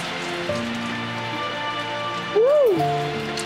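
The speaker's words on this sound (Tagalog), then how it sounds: "Malakas ang ulan." Heavy rain pours down in a steady, dense hiss throughout, with a brief rising-and-falling tone sounding over it near the end.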